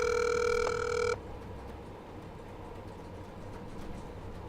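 A telephone ring tone on a call sounds loud and steady for about a second, then cuts off and leaves a faint hum of room background.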